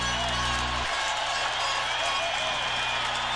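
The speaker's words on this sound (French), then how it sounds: "Le but a jeté l'euphorie dans la foule ici, au Saddledome." Hockey crowd at the Saddledome in Calgary roaring and cheering after a goal in an Olympic Sweden–Canada game, a dense, steady wall of noise after a brief low hum cuts out.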